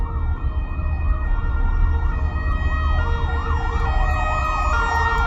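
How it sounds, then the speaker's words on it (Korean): A fire truck siren wails continuously while passing along a street in Spain, loud and close over road traffic rumble, its rising and falling tone sweeping repeatedly. "소방차가 지나가는데 앰뷸런스도 그렇고 엄청 잘 비켜줍니다."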